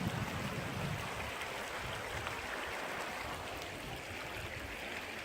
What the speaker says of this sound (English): And here we have a babbling brook.